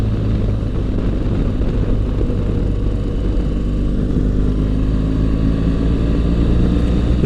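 A motorcycle ridden at steady speed, picked up by a helmet-mounted mic, giving a loud, constant engine drone blended with heavy wind rush and no talking.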